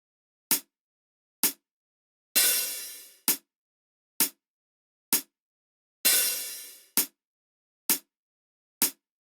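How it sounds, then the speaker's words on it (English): Metronome in 4/4 time with an accented first beat: sharp dry clicks evenly spaced, with a louder, ringing accent click opening each bar of four, heard alone over two bars. "The metronome beat is 4/4 time"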